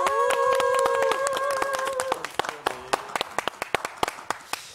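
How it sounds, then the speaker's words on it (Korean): A talent show audience claps to welcome the first contestant onto the stage, dense applause at first with sustained musical tones beneath, thinning into scattered individual claps toward the end. "첫 번째 참가자 큰 박수로 환영해 주십시오."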